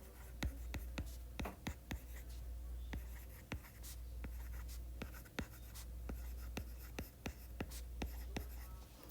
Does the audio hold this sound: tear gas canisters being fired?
no